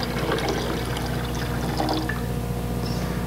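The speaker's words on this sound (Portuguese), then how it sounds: "Agora eu vou misturar esta quantidade de água quente" Hot water is poured into a container of cold water during a classroom temperature demonstration, producing a steady, continuous splashing pour that fills the whole stretch with no talking.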